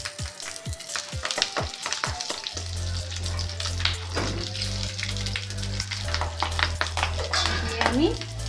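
Vetki fish paturi parcels sizzle and crackle steadily in hot oil in a frying pan, close and continuous. A few sharp clinks and taps are heard near the start.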